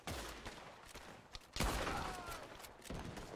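Gunfire in the video game Red Dead Redemption 2, a burst of loud shots followed by a sharper crack and a lingering, noisy rumble. It sounds close and fills the whole stretch.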